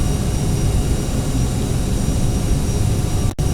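Steady, loud roar of Aerosoft CRJ 700 jet engines climbing after takeoff in a flight simulator, a constant broadband drone with no talk, cutting out briefly near the end.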